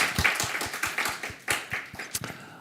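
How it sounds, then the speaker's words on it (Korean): A church congregation claps in praise after a sermon, a modest, fairly sparse round of hand claps with distinct individual strikes, close and brief. "우리 하나님께 영광의 박수 올려드립니다"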